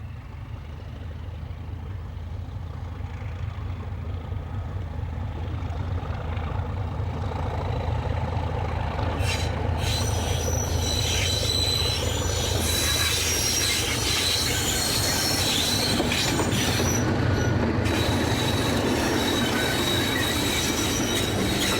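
Class 31 diesel locomotive D5581 draws near Chinnor below the Chilterns. Its steady engine drone swells as it gets closer, with wheel squeal and clatter rising over the heavy rumble.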